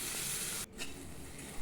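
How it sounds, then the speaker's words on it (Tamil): A steady sizzling hiss of tomatoes sautéing in a pan for chicken kuzhambu, briefly interrupted by a short break and a stirring clatter, with no voices. "தக்காளி சேர்த்து நன்றாக வதக்கி விட்டுக்குங்க."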